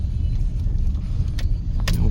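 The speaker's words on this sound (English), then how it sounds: "Little tractor." Small tractor engine running while driving, a constant low close-up drone with a few light rattles and clinks over it.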